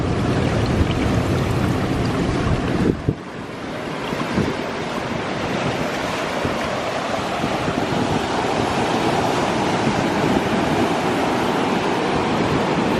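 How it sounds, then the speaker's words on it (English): Surf breaks and water trickles on Malibu beach in a loud, continuous wash. Wind buffets the microphone throughout, with a brief dip partway through before the steady roar returns. "It sounds so pretty, the trickling water."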